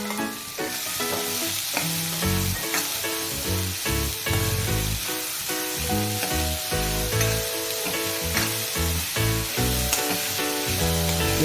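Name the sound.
chopped onion sizzling in oil with crackling cumin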